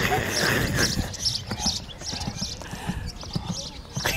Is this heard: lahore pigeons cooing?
no